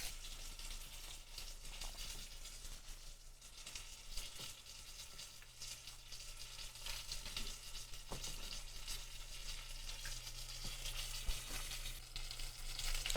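Fried chicken deep frying in oil in a cast iron pan, giving a steady, moderately faint sizzle and bubbling hiss that runs throughout with small pops and crackles.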